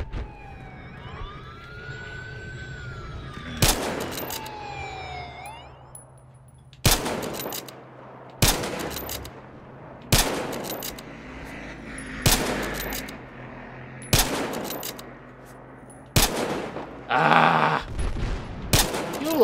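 Sharp, loud gunshot bursts from Battlefield Hardline's Hotwire mode in a downtown setting, firing every couple of seconds in a steady rhythm, with a police siren wailing underneath at the start and brief muttered talk.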